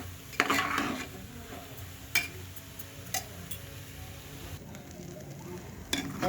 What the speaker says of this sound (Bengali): ভেজে নেব এখন চাউলটা ভালো করে